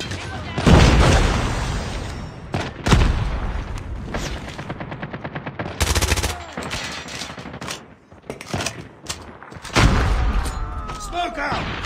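A frag grenade going off in a video game, a loud deep blast among repeated gunfire bursts and machine-gun rattle, with voices calling out over the combat.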